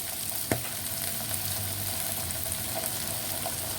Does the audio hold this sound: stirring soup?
yes